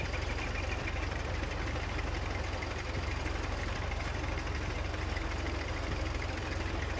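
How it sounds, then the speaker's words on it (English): An Allis tractor idles in a farm simulator game, a steady, monotone low engine drone with a constant rhythmic pulse, loud and close and unchanging throughout, with no voices. "I do apologize for the monotone sound of the engine, though."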